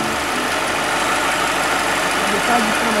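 A 2008 Subaru Forester 2.0 engine idles steadily and smoothly when warm, a constant broadband hum with no notable changes over the span, heard up close.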